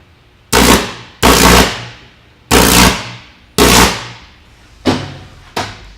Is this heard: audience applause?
no